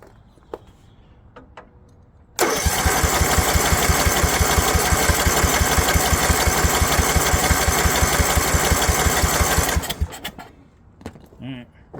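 A Snapper rear-engine rider mower with an 11 HP Briggs Intek engine cranks and catches, then runs loudly and steadily for about seven seconds before cutting out, with a few quiet clicks and handling sounds before and after.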